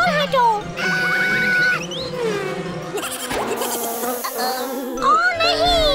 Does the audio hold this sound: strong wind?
no